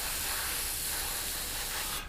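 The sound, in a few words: spray paint being applied to a Revell 1/72 Lancaster model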